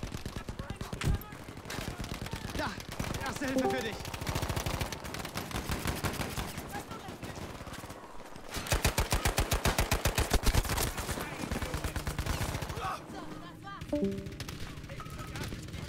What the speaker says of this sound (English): I click 1 to start shooting my gun, and instead it fires the previous gun.